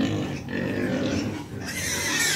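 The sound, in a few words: pigs on a farm before feeding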